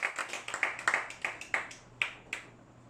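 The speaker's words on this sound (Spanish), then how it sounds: "démosle un aplauso fuerte a nuestro Señor Jesucristo" A church congregation gives a round of applause for Jesus Christ during a worship service: a run of sharp, uneven claps from a small group, loudest at first and thinning out toward the end, with a low steady hum underneath.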